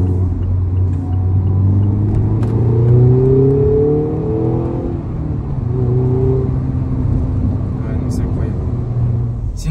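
A Mazda MX-5 (ND) sports car engine rumbles and revs, rising and falling in pitch as it accelerates, loud and close throughout.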